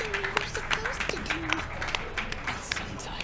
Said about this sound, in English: let's give another big round of applause to Phlap for breaking this game that I spent